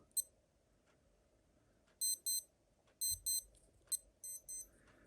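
A digital wristwatch alarm beeps in quick double chirps, repeating several times, high-pitched and thin, with quiet background otherwise.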